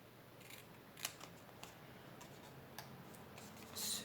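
Scissors snipping through card along marked cutting lines for a flap card: a handful of faint, sparse, close clicks and snips at uneven intervals over quiet room tone, with one slightly longer shearing sound near the end.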